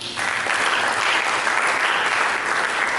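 Church congregation applauding during a sermon, a dense, steady wash of many hands clapping that starts almost at once and holds evenly at full strength throughout.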